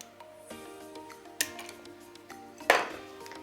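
A false nail tip capsule being cut during a nail extension application: two crisp, sharp snips, separated by about a second, over a quiet, steady background hum.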